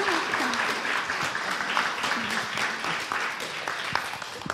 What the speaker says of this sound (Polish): Brawa dla naszego świetnego gościa.